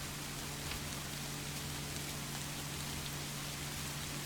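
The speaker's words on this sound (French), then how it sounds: "ça rajoute un truc avec le bruit de la pluie" Steady rain falling as a continuous, even hiss with a low hum beneath it.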